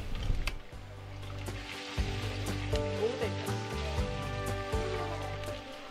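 Noodles being tossed and stir-fried in a hot oiled pan for an Indo-Chinese dish give a steady, close sizzle that runs throughout, with a faint tonal background hum beneath it.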